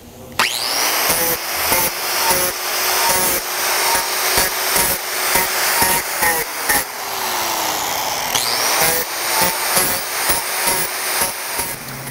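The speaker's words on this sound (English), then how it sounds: "Now we're going to clean it up with the grinder." An angle grinder scours mill scale off hot rolled steel for a metal end table, a loud steady close-up whine and rasp that shifts pitch as the disc is pressed and eased off, running the whole time without speech.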